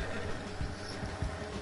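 A gypsy cob horse in the Red Dead Redemption 2 online game, giving a few soft, low hoof thuds against a steady wash of ambient game noise.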